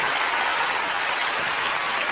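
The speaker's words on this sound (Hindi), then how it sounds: "एक बार फिर जोरदार तालियों के साथ हमारी CID टीम" Loud, dense applause from a TV show studio audience fills the whole stretch as a steady wash of clapping with no talk over it.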